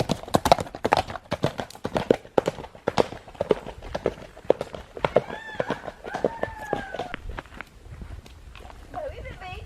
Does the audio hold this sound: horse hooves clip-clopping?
yes